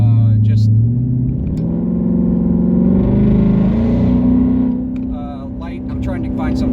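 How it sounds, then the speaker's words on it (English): A 2019 Mustang GT V8 fitted with an MBRP race exhaust, a JLT cold air intake and a tune, rumbling loudly and shifting pitch as it revs and settles, with someone talking over the engine throughout. "I would say MBRP and race exhaust with the tune, you're starting to get to that point where there may be a little bit of drone."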